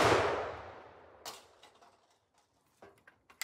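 A .45-70 rifle fires a Lehigh Defense 305 grain Xtreme Penetrator into a gel block: one loud, close report that rings out and decays, followed by scattered faint clicks and knocks.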